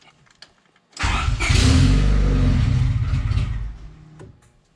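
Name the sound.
car engine starting but failing to idle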